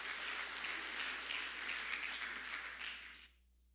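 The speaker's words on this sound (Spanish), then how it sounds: "Alguien le puede un aplauso a Dios." A church congregation applauds during a sermon, a dense roomful of hand claps that holds steady for about three seconds and then stops abruptly, heard alone without talk.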